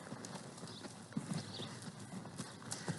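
Hooves of a horse ridden at a running walk on a ranch clip-clop in a quick, even rhythm, fairly faint and close, with no talking over them.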